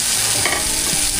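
Chicken sizzles in a large pot with sautéed garlic, onion and margarine, a dense, loud hiss of frying with faint stirring scrapes, close up and without talk.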